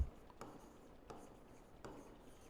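Faint strokes of writing on a board during a geography lecture, a few quiet, scratchy marks spaced about every second against a hushed room.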